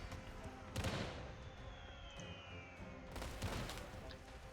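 Squadron cannons firing in a large free-for-all video game battle, two heavy bursts of booming gunfire over a constant low rumble of distant battle noise, fairly quiet overall.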